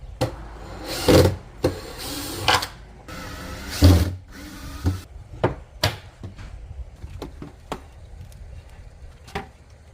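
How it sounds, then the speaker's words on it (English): Screws being backed out of a wooden build inside a 4Runner, with short bursts of a whirring driver mixed with clunks and knocks of wood being handled, followed by a series of sharp taps and clicks near the end. "Unscrewing everything, getting all my screws and all my wood back"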